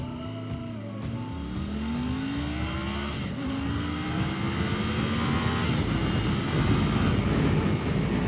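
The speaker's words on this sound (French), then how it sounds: "Je vais faire un petit départ arrêté 0 à 100." A 2021 Triumph Tiger 900 GT Pro motorcycle launching from a standstill in sport mode, its engine note climbing steeply through successive gears with brief dips at each shift, growing louder and rougher, close up with wind roar.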